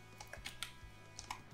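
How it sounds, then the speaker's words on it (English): Rapid typing of a few letters on a computer keyboard into a Windows start menu search, a quick burst of close, crisp key clicks in uneven rhythm. "I just typed EAS"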